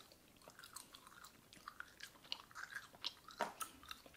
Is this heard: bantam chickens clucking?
no